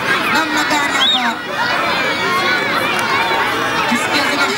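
A crowd at a football cup final, with a steady roar of chatter and shouts that swells into cheering, continuous and fairly loud throughout.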